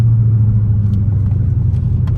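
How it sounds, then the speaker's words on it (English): A car with a 392 engine and aftermarket headers pulls hard in fourth gear, a loud, deep, steady exhaust rumble heard close up from inside with no talk. "car really start pulling in 4th gear"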